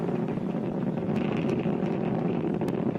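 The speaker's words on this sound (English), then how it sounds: "we'll throttle down the engines in preparation for that event" A SpaceX rocket's first-stage engines roar in a dense, continuous, distant-sounding rumble during a crewed launch to the Space Station, steady throughout with no voices.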